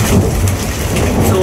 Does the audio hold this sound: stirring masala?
no